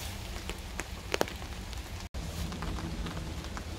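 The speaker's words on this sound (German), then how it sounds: "Feiner Hagel prasselt herunter." Fine hail patters down outdoors in a dense, steady crackle of small hits, with a few sharper ticks standing out and a momentary break midway.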